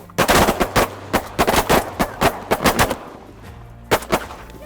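Rapid shotgun blasts ring out during a bird hunt in Michigan, a dense volley of about fifteen loud, sharp shots fired close by in quick overlapping bursts, then a short pause and a few final shots.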